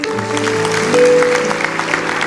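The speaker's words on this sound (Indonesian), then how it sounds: "Kasih tepuk tangan untuk Tuhan." A church congregation breaking into applause during a sermon, a brief burst of clapping under lingering sustained musical tones, with a voice faintly mixed in.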